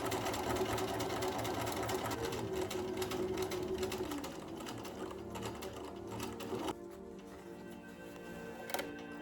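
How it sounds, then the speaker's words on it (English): Sewing machine topstitching a flat felled seam on shorts: a steady, fast mechanical whir with rapid ticking stitches running close up, slowing briefly and then resuming before a faint click near the end. "I'm gonna sew this down right here. I'm gonna top stitch that"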